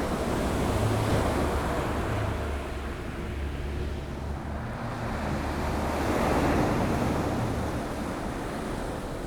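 Sea waves break and wash onto the shore in a continuous roar that swells and ebbs, with wind buffeting the microphone and no talking.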